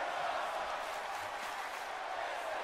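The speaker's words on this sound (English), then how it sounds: "And look, you hear the crowd" A video game arena crowd from a WWE 2K20 Survivor Series pay-per-view match, a faint, steady roar of cheering that holds evenly at a distance throughout.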